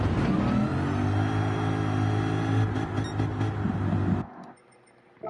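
A car engine revs and accelerates loudly and close up for about four seconds, a steady high-pitched drone that then cuts off abruptly into near silence.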